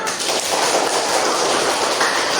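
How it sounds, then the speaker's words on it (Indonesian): A classroom of children claps hands together in a dense, steady burst of loud applause lasting a couple of seconds, close and alone without voices. "Oke, tepuk tangan dulu."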